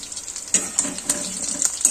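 Mung dal puli, a Bengali stuffed dumpling, frying in hot oil, giving a steady close sizzle with a few sharper crackles and stirring clinks and no talk.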